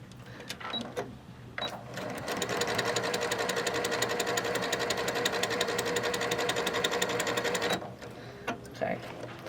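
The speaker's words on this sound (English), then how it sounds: "I'm going to start sewing" Sewing machine stitching quilt block pieces, a fast steady mechanical chatter that starts after a couple of brief bursts, runs evenly for several seconds close up, then stops, with quiet talk around it.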